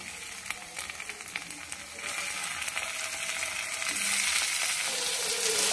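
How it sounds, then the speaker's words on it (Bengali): Chopped tomatoes added to browned onions fry together in a pan for a mutton masala curry, giving a steady close sizzle that grows louder and brighter, with occasional stirring scrapes. "টমেটোটা আর পেঁয়াজটা ভালো করে ভেজে নেবো একসঙ্গে।"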